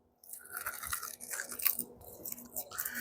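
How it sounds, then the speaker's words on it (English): Crispy chicken skin cooked on a pellet grill is bitten and chewed, giving close, quiet, repeated crunches in an uneven rhythm for about three seconds, with no talking. "Crunch, crunch, crunch."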